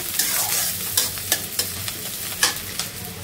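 Onions frying for khichuri, a steady sizzle in the pan broken by repeated sharp scrapes of a spatula stirring, close and alone with no voices.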